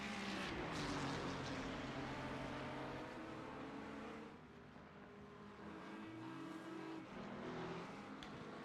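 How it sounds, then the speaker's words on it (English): A race car running on pit road at a night Speedweek race, its engine a faint, distant drone that steadies and then dips midway, with no talking. "Show the 9 car coming into pit road."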